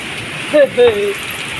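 Heavy rain from Cyclone Dana pours steadily in Bhadrak district, Odisha, in a constant broadband roar, while a voice briefly speaks over it.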